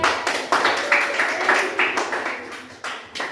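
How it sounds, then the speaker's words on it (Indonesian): Classroom applause for a student group, a run of quick rhythmic claps from several people at moderate volume, with voices mixed in beneath. "Tepuk tangan untuk kelompok 3."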